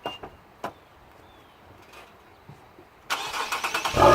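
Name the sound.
Infiniti Q50 engine starting and revving, resonator delete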